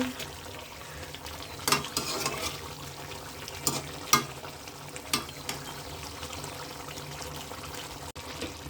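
Chicken being stir-fried in a pot, a soft continuous sizzle broken by several sharp scraping and clanking strokes of a spoon against the pot at irregular intervals, close and fairly quiet.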